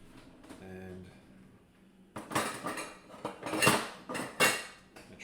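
A wooden spoon clatters against a pot holding ground beef and olive oil, with a few sharp knocks and scrapes in quick succession after a quiet start that carries a faint tonal hum.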